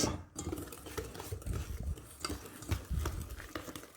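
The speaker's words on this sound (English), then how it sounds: "We're going to add our dry mix, which is the flour mixture." Apple fritter batter being mixed by hand in a bowl as the dry flour mixture is folded in, giving close, busy stirring and scraping sounds with soft clinks of utensil against the bowl, steady throughout.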